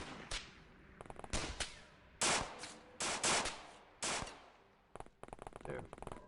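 Enemy gunfire in the XCOM video game: several sharp, loud bursts of automatic fire and single shots in quick succession, each cracking out and decaying, ending in a rapid rattling volley.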